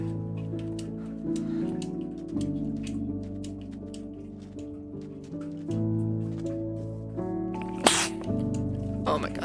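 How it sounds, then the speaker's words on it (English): A single sharp sneeze bursts out near the end, over background music and a person talking. "Oh my god, sorry, I had to sneeze."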